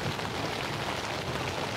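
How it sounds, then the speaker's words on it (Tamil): Dense, steady heavy rain patters hard against a tent while camping at Thalaimalai, a loud continuous hiss of drops with no voices. "ரொம்ப மழை அடித்து ஊற்றிக்கிட்டு இருக்குது"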